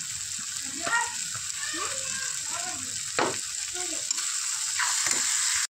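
Small fish sizzling in a pan of hot oil, a continuous bright frying hiss with occasional stirring scrapes and clatters of a spatula, close and alone without talk.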